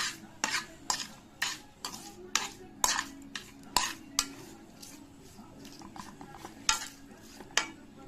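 A spoon scrapes and stirs through a cooled mango thokku pickle mixture in a metal vessel, with repeated rhythmic strokes about twice a second, close and clear.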